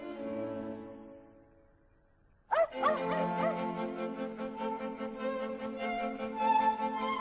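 A sustained tonal whine fades out, then after a brief pause a dog bursts into loud yelping barks and whimpers that continue steadily, close by.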